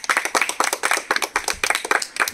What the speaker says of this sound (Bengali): একটা জোরসে হাততালি হয়ে যাক।